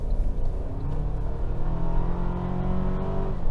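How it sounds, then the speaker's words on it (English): A 2025 Toyota 4Runner SR5 accelerates with a steady, loud engine drone and rising harmonic tones, its turbocharged engine note heard from inside the cabin with no talking. "It's loud, but it sounds good. I like the turbo hiss in here."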